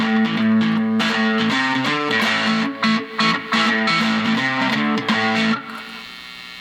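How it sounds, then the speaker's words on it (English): A cigar box guitar with heavy distortion plays a fast riff of repeated chords and notes, loud and gritty, ending with a ringing fade. "if you have any distortion or anything, that would be a good time to turn it on"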